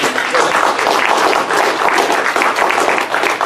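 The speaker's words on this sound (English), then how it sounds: "How about a big round of applause for Matt?" An audience gives a big round of applause for Matt Maddock after his talk on the Michigan bail bond process: dense, loud, continuous clapping from many hands that keeps going with no voices over it.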